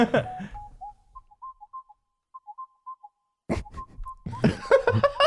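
Someone whistles a short, thin series of high notes in a podcast room, faint and broken into brief chirps, with laughter and talking before and after.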